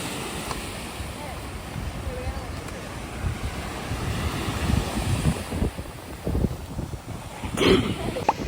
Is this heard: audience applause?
no